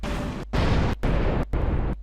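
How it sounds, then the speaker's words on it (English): Artillery shells of 122 and 152 mm burst in a tank combat video game. Four loud, roaring explosions follow one another with only brief silent gaps between them. "Look at those explosions."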